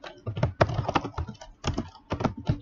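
Typing on a computer keyboard, a rapid irregular stream of close, clattering keystrokes with brief pauses between bursts.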